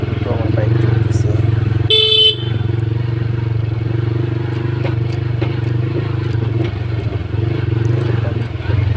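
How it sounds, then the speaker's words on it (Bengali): A motorbike races over a rough, broken rural road, its engine droning steadily up close with rattles and scrapes from the bumpy surface and a brief horn blast early on. "খুব দ্রুত আমার বাইক চলতেছে।"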